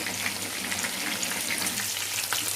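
Hariyali chicken kebabs fry in hot oil in a pan, a dense steady sizzle and crackle heard close and alone, with faint sputtering pops.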